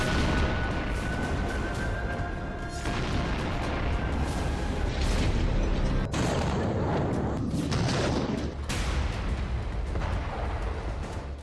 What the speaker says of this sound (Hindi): कुछ यूं ताबड़तोड़ मिसाइलें दागकर खाक में तब्दील किया जा रहा है खार्किव को।